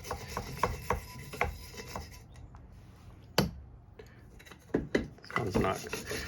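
Corroded hot tub heater element terminals are scrubbed in short, close rasping bursts with a sharp knock midway, as a voice speaks intermittently.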